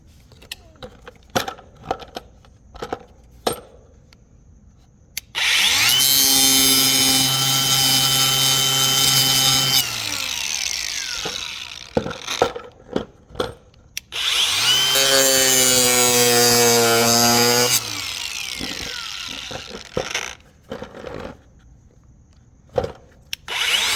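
A power tool cuts into a fabricated air intake box for a 2025 Honda Civic Si in two loud, sustained bursts of a few seconds each. Short taps and knocks fall between and after the bursts, with occasional brief speech.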